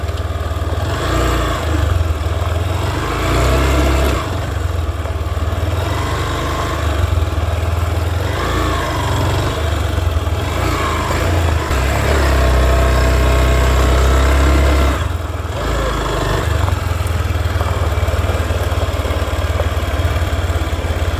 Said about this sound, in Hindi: बाइक चढ़ाने की ट्राई करते हैं।